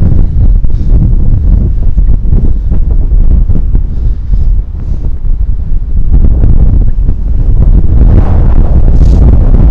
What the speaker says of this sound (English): The wind today is just so strong.